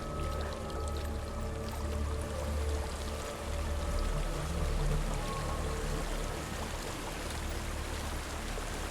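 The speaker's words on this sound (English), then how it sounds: "There's a waterfall." A waterfall in Hellblade: Senua's Sacrifice pours in a continuous rushing wash of water, steady and fairly close, with a faint tonal drone underneath.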